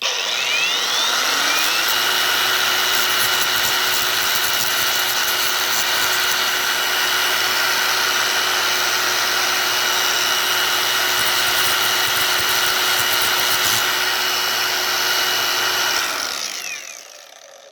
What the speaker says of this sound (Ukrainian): беремо до рук який-небудь абразив і треба легенько оце зачистити